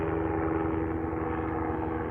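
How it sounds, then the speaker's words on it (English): A helicopter passes overhead, its low, steady rotor thump and engine drone filling the air at a constant, fairly loud level with no voices. "Hello, helicopter."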